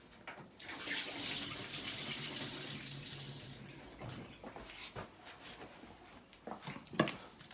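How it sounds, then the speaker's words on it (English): Tap water runs into a kitchen sink while hands are washed during home cooking, a steady close splashing hiss for several seconds that then gives way to quieter drips, rubbing and small knocks. "Just gonna wash my hands one sec."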